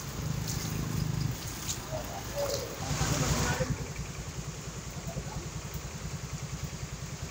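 A motorcycle engine struggles through knee-deep flood water on a highway, giving a low, rhythmic idling throb that steadies into regular pulses, with voices and clattering noise earlier on.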